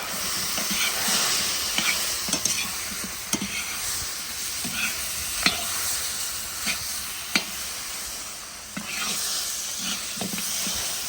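Spicy seasoning being stirred into pumpkin in a cauldron: a steady hissing sizzle with occasional scraping knocks from the stirring, close and fairly loud, with no speech.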